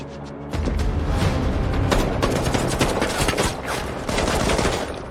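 Bursts of gunfire from an AI-generated Seedance video scene, with rapid, loud cracking shots and automatic volleys packed densely after a brief quiet opening and continuing without pause.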